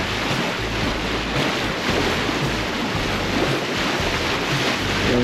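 A sailboat under sail between Corsica and Sardinia, with a loud continuous wash of waves and rushing wind buffeting the microphone, steady throughout and without voices.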